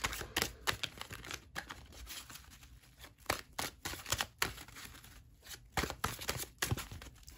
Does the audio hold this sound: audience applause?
no